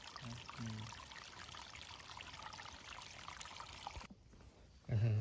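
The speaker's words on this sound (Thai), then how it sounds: "มีห้วยด้วยเพื่อนค่ะมีห้วยด้วย ที่จริงมันเป็นร่องน้ำที่เขาขุด" Water trickles and pours steadily along a hand-dug ditch stream in a Swedish forest, a faint continuous wash heard up close, with brief low voices near the start and a thump at the end.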